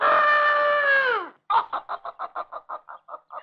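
A rooster gives one long, loud, clear crow, then after a short gap breaks into a quick string of about a dozen evenly spaced clucks that gradually fade.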